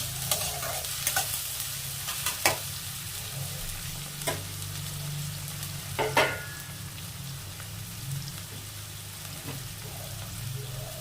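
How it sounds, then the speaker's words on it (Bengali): Onion, ginger and chili frying in a pan for chow mein: a steady close sizzle with intermittent stirring scrapes and spatula knocks, no voices. "আদা কুচি, লঙ্কা কুচি সব দিয়ে এবার আমি পেঁয়াজটা বেশি ভাজবো না।"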